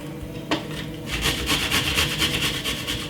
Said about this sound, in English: you can take some garlic. Yeah, I'm just grating it